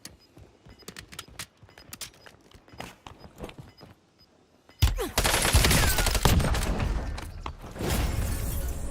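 Gunfire in Call of Duty: Warzone: scattered footsteps and single shots give way to a loud, sustained burst of automatic fire that rattles on for several seconds.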